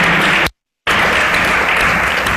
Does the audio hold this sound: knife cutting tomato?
no